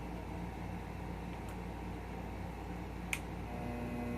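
A drill press motor starts up running in reverse, a steady low hum with a faint whine that holds evenly throughout, with a couple of brief clicks.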